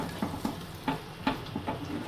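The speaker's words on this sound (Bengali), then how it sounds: "এবার আমি এর মধ্যে কিমাটা মিশিয়ে দেব।" Minced mutton keema, marinated in yogurt, being stirred into frying onion and tomato in a pan, with a soft sizzle and a series of scraping stirs at a steady rhythm, close by.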